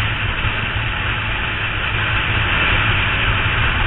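Honda CB900F motorcycle engine running steadily while being ridden up through the gears, a continuous low droning rumble with constant wind-like broadband noise, loud and close with no talking.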